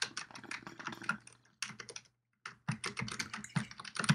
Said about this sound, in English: Type, I'm typing.